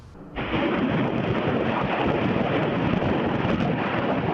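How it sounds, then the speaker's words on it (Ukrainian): A continuous heavy roar of distant mortar fire and rumbling blasts hitting a town in Ukraine, loud and sustained, with wind buffeting throughout. "Безприцільний вогонь помітила і наша знімальна група."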